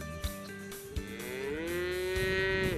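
Beef cattle on a Minnesota livestock farm, one close, loud, drawn-out moo that rises and holds for about two seconds, with a few faint knocks before it.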